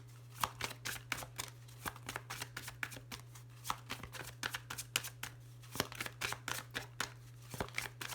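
Tarot cards are riffled and cut at close range, giving a quiet sequence of crisp, irregular slaps and flutters over a steady low hum.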